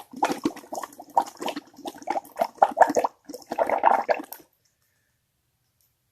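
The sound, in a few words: blowing bubbles in bubble mixture for a bubble tumbler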